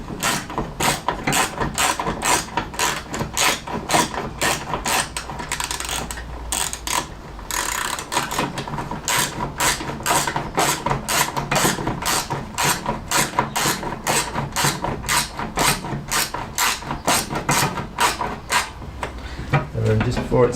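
Repeated ratcheting clicks from a wrench tightening the fuel tank strap bolt on a classic Fiat 500, a steady rapid run of close mechanical clicks with a short pause partway through.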